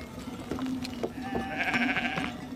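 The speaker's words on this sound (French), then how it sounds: "En les voyant arriver, les moutons comprennent qu'il n'est plus l'heure de manger et qu'il faut se mettre en route." A mountain flock of sheep sets off as herding dogs move them along, with several close and distant bleats overlapping over a steady outdoor background, and no talk.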